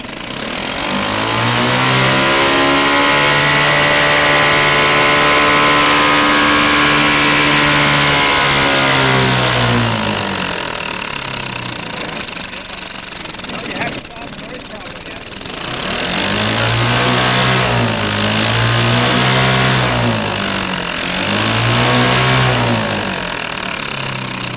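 Small 5 HP engine cranked up during a fuel cell demonstration, revving loudly with rising and falling pitch, easing down midway, then surging again in repeated bursts, close by, with voices faintly underneath.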